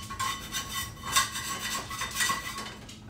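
A metal utensil scraping leftover egg residue off a skillet, repeated rhythmic scrapes and clinks over about three seconds, close and moderately loud, with no voices.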